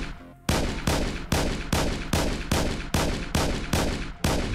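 Pistol fire from the sci-fi shooter Astroswarm, nine loud evenly spaced shots about half a second apart, each a sharp crack with a short decaying tail, heard alone.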